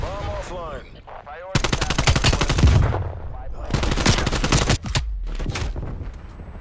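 Loud automatic gunfire in Call of Duty: Black Ops Cold War rattles out in two long, rapid bursts with a short gap between them, after a brief voice at the start.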